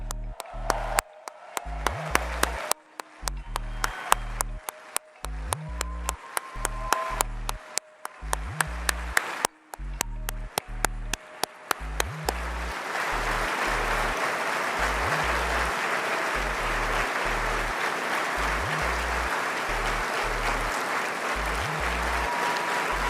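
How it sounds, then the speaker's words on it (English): A dinner audience at a Human Rights Campaign event claps in scattered bursts that swell into sustained, full-room applause, steady and moderately loud. "I'd like us all to give them a big round of applause."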